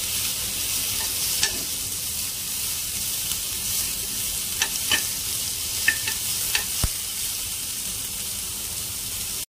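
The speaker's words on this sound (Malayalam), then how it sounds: "അപ്പോൾ അതിലേക്ക് നമ്മൾ നേരത്തെ അരിഞ്ഞ് വെച്ച സവോള നീരിട്ട് കൊടുക്കാതെ പിന്നെ കുറച്ച് സമയം നമുക്കൊന്ന് ഇളക്കി കൊടുക്കണം" Chopped onions frying in a pan while being stirred, with an even hiss of sizzling oil and occasional light clinks and scrapes of a spoon.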